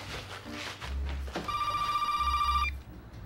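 A telephone rings indoors, a single bright electronic trill lasting about a second, preceded by faint shuffling movement and low background sounds.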